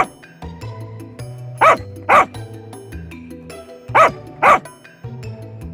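Dogs bark near a tree cave in short paired bursts, two barks, a pause, then two more, over a steady background of music tones.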